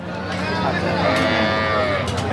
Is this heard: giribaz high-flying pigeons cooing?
no